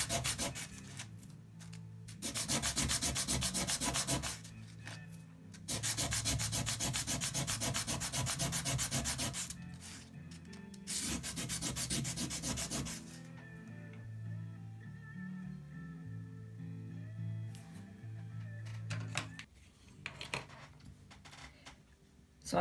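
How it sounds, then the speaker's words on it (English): Metal bead domes for silver earrings being hand-sanded to flatten their pointed bottom edges, heard as several sustained bursts of scratchy rubbing with short pauses between them, then quieter, lighter scraping toward the end. "I'm just going to sand to get that edge, that pointy edge off the bottom."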